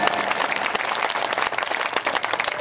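Applause from a comedy show audience, a dense burst of many hands clapping together, loud and sustained throughout with a faint crowd murmur beneath.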